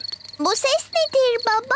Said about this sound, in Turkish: Bu cırcır böceklerinin sesi.